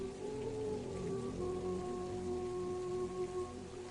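Steady rain pouring down in a children's cartoon tale about a sparrow and her chicks, a continuous even hiss with faint tonal music lines running underneath.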